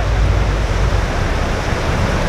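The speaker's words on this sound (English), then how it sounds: "There's something magical about the ocean. The sound, the smell" Ocean surf on Gran Canaria washes in a steady, broad roar, close and loud, with no voices over the rushing water.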